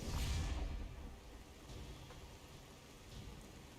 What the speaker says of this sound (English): So it made it rain?